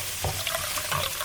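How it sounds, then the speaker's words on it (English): Water poured into a pot over chicken and sauce for a Dominican dish, a short wet splash and gurgle with two brief surges, close and alone. "Now we're just gonna add just enough water to barely cover our chicken."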